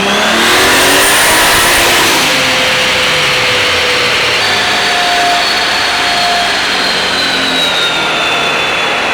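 A boosted car engine on a dyno pulls hard through a full run, a loud sustained roar rising steadily in pitch with a whistling, jet-like whine riding over it, close and unbroken from start to finish.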